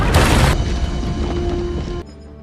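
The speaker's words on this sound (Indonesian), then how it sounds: "Namun, monumen Washington harus hancur karena tertabrak oleh pesawat tersebut." In the film Olympus Has Fallen, a plane crashes into the Washington Monument: a loud, close booming impact bursts out at once and then trails into a heavy rumbling roar that cuts off abruptly.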